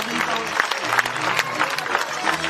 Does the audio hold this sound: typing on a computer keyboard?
no